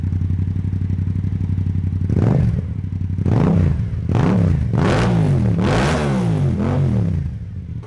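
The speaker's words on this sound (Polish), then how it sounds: "Powiem Wam, że dźwięk tego dwucylindrowca jest naprawdę kosmiczny." A Yamaha MT-07 two-cylinder motorcycle engine idles with a low throb, then revs sharply several times in quick succession, each blip rising and falling, loud and close.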